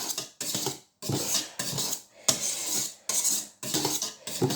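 Madeleine batter with milk stirred in a bowl, making repeated scraping, clattering strokes in short bursts with brief pauses between them, close and fairly loud, no talking.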